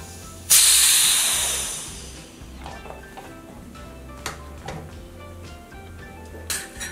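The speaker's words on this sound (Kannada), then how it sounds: "ಟೈಟ್ ಮುಚ್ಚಳ ಇರುವಂತದನ್ನ ಮೀಡಿಯಂ ಫ್ಲೇಮ್ ಅಲ್ಲಿ 5-6 ವಿಸಲು ಕೂಗಿಸ್ಕೊಳ್ಳೋಣ" A pressure cooker with a tight lid on a medium flame, holding lemon pickle, lets out a sudden loud burst of hissing steam that fades over about two seconds, then faint ticking.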